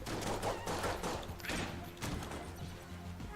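Rapid gunfire from a 1911 pistol in the video game Enter the Gungeon, loud, dense bursts of shots and impacts running through the whole stretch with no speech over it.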